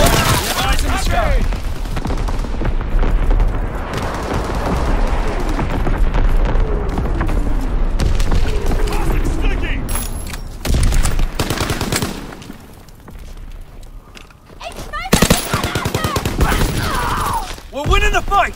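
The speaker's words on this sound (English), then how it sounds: "Firing division artillery." Division artillery firing in a Call of Duty WWII multiplayer battle, with rolling volleys of gunfire, heavy booms and machine-gun bursts filling the scene, loud and near, briefly thinning midway before erupting again.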